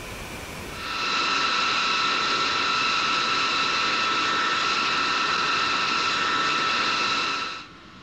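Boeing 720 jet engines in the X-Plane flight simulator hold a steady, loud whine with layered tonal hum for several seconds, then drop away abruptly near the end.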